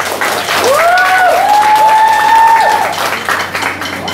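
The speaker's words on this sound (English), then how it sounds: "So please, one big clap." Loud, dense applause from a crowd at a college freshers' day, sustained for several seconds, with a whistle or sliding tone rising above it.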